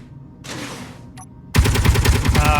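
A weapon in the space game Space Engineers opens fire after a short burst of noise and a mechanical click, then a loud, rapid stream of repeated shots.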